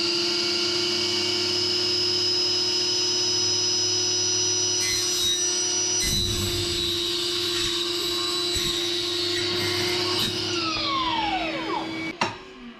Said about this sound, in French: je vais pouvoir couper mes rails qui sont eux en alu